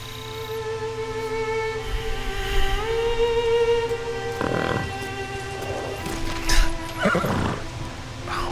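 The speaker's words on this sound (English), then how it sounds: "Horse is trying to cheer us up." A horse neighs and whinnies in Ghost of Tsushima, set against a sustained musical score, with a few hoof clops and a second whinny near the end, moderately close and clear.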